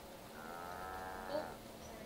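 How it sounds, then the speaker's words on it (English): A cow in the video game Guild Wars 2 gives a long, drawn-out moo of over a second, moderately faint over a steady background hum. "What, like, they moo at you?"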